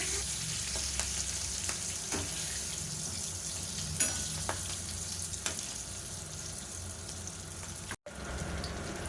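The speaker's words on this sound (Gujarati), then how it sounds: "વઘાર કર્યા બાદ આપણે મરચાંને તેલની અંદર સરસ રીતે સાંતળી લઈશું।" Stuffed green chillies sautéing in hot oil after a tempering for a chilli kadhi, a soft continuous sizzle with occasional spoon clicks and stirring, with a momentary dropout near the end and no talking.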